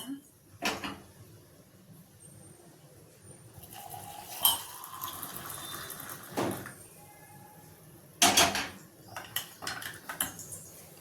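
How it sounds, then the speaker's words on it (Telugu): Milk being mixed with Horlicks in a home kitchen: a few sharp clinks and knocks of spoon against a vessel at scattered intervals, with quiet gaps between them. "ఇంకా పాలు కలుపుతా. హార్లిక్స్ వేస్తున్నా."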